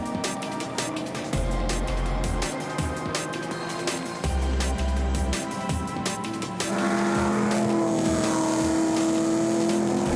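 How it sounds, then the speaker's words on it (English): Race cars, among them an orange Porsche 914 and a Mercedes-Benz 280E, roar past on a circuit, engines revving and passing close in quick succession, with one car's rising whine near the end. "Steve Pickering in his orange Porsche 914 leads Ian Morgan in his Mercedes-Benz 280E into turn 5, closely followed by the Lotus of Neville Re"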